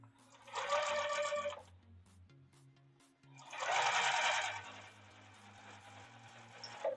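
A sewing machine stitches seams in two bursts of rapid, buzzing mechanical chatter about a second apart, close and fairly loud over a low steady hum, with quiet pauses between runs.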